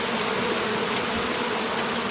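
A dense, steady buzzing of bees, a continuous swarming drone with no pauses and no voices.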